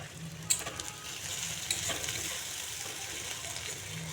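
Onions sizzle and fry in a pan with a pinch of salt, a steady close hiss broken by a few sharp clinks and stirring scrapes, with no talking.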